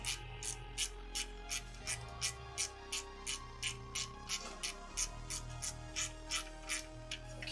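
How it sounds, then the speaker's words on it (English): A ratchet snugs down a coolant line fitting in a garage, clicking in a quick, even series of about twenty close, crisp pawl clicks. "just little ratchet tight"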